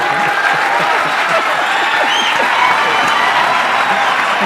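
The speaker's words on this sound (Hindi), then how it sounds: "जो अभी तालियां बजा रहे थे" An audience claps loudly and steadily throughout, a dense, continuous wash of applause with no break.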